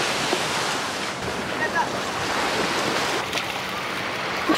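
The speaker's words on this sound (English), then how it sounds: "We're at the beach." Ocean waves at a beach in Seaside, Florida, a continuous loud wash of surf mixed with heavy wind noise on the microphone, steady throughout with no clear speech.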